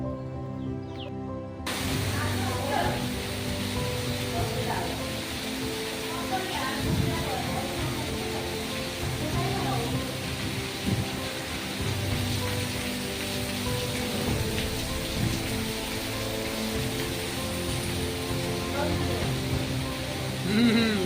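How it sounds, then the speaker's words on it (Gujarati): Heavy rain pours down in a dense, unbroken hiss of drops hitting surfaces, loud and steady throughout, with faint bird calls and occasional voices underneath. "આપ જોઈ શકો છો મિત્રો, કેવો વરસાદ પડી રહ્યો છે."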